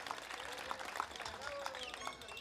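Crowd applause at a village festival in Santa María Coatlán honouring a festival queen and her attendants, a faint, diffuse patter of clapping from a distance mixed with ambient crowd noise.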